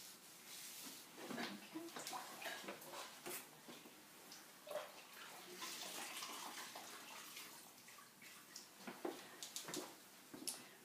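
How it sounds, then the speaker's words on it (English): Water splashes and drips intermittently as a face mask is rinsed off the skin with clean water and fresh mitts, close by and moderately quiet, with small sloshing bursts throughout and no talking. "I'm removing the mask now with fresh mitts and clean water"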